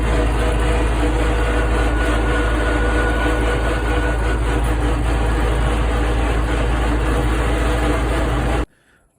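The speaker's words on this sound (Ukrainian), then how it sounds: "пригнав я трактор в село" YuMZ-6 tractor diesel engine running in a village, a loud, steady low rumble that holds constant throughout before cutting off abruptly at the very end.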